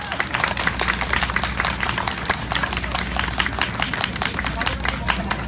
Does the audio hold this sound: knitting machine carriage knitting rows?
no